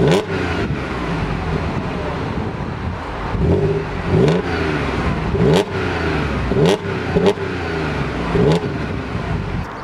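A 2013 Audi S4 with quad tip exhausts revs and runs close by, loud and steady, with rhythmic surges and pulses and no talking.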